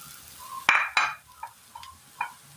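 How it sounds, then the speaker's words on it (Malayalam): Chopped carrots tipped into a hot pan in a Kerala home kitchen, giving two sharp clattering hits followed by a few lighter clinks and a soft sizzle, with no voices. "ഇതിലേക്ക് നമ്മൾ ചോപ്പ് ചെയ്ത് വെച്ചിരിക്കുന്ന ക്യാരറ്റ് ഇട്ട് കൊടുക്കാം."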